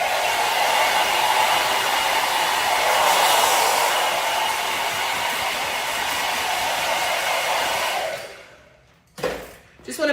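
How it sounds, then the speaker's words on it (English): A blow dryer runs steadily and loudly for about eight seconds while hair is styled into a textured Eurohawk, then cuts off, followed by brief faint handling sounds. "let me get this blow dryer on."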